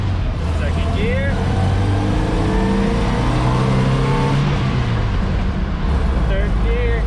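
A 1966 Toyota Stout truck on a 4Runner chassis pulls away in second gear, its engine rising in a steady rumble heard from inside the cab, with someone speaking briefly over it.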